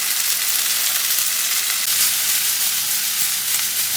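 Chicken and onion sizzling in oil in a pan, a steady loud frying hiss throughout with faint stirring beneath, no talking.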